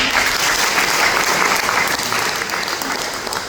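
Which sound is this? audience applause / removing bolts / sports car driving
audience applause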